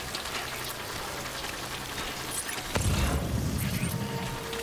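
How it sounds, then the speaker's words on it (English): Steady rain falls in the video game Death Stranding, a constant soft hiss that grows heavier and denser partway through, with no talking. "We've been in the rain for too long."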